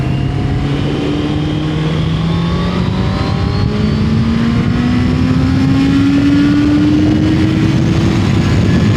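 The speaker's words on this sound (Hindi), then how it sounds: "Too many 18-wheelers on this road." Loud, close road noise from a car driving among 18-wheeler trucks, a continuous engine drone with a slowly rising pitch as the vehicle accelerates, with steady tire and wind roar throughout and no talk.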